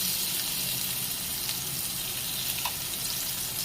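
Garlic and chili paste hits hot oil in a pan and sizzles steadily, a bright hissing fry that stays even and close throughout with no talking.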